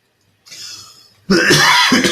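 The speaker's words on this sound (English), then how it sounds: "just struggling a little bit of a cough" A single throaty cough bursts out loud and close after a quieter rasping breath, ending with a short second hack.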